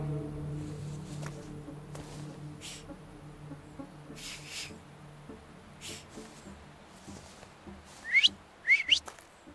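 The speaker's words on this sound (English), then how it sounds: "So, have you mastered whistling?" A few short, bright whistled notes near the end of a quiet stretch in the video game The Thaumaturge, rising over a low ambient hum with faint insect-like buzzing.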